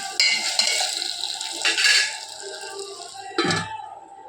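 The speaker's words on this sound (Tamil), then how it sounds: "மூடி போட்டாச்சு" Metal cookware clinks on a stovetop while a turmeric dish simmers, with a few light clatters and a final firmer clunk as a lid settles onto the cooking pot.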